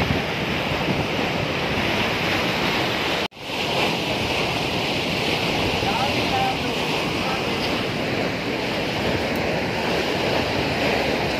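Fast-flowing canal water at Hub Dam, a loud continuous rushing wash with a brief dropout near the start, joined by people talking.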